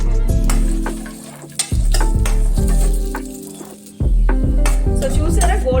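Raisins and cashews dropped into hot oil, giving a loud continuous sizzle and bubbling with periodic surges as the pan is stirred, plus occasional clinks.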